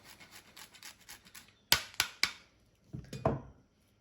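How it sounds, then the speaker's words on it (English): Pecorino romano cheese is grated over a bowl of lentil soup and pasta: soft, rhythmic scraping strokes, followed by a few sharper knocks and a last brief scrape, all close and fairly quiet. "I'm just going to grate a little pecorino romano"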